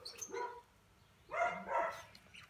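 An Alaskan Malamute gives a short bark-like call, pauses, then lets out two more drawn-out, yowling vocalizations close to the microphone in a quiet room.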